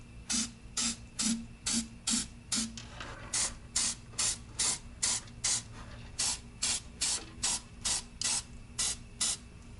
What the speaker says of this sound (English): I take some copper spray gasket and spray on the mounting surface